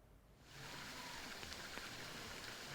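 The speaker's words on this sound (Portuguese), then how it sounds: "a chuva volta a engrossar" Rain in Campinas, Brazil, swells from near quiet into a steady, soft broadband hiss that holds evenly once it builds, faint overall with no voices.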